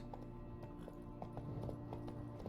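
Horse hooves clip-clop at a steady walking rhythm in the video game Witcher 3, quiet and somewhat distant over a low background hum.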